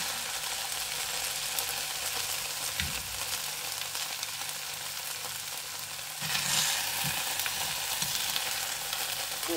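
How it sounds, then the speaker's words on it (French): Rice noodles and vegetables for hu tieu xao bo fry in a pan, a steady close, loud sizzle with occasional stirring scrapes and a swell of hissing as more food goes in partway through. "je vais mettre euh, les pâtes et les légumes"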